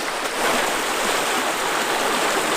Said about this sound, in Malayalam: മഴയുകൊണ്ട് പാടത്തും തോട്ടിലും ഇതണ്ട നല്ല കുത്തൊഴുക്കാണ്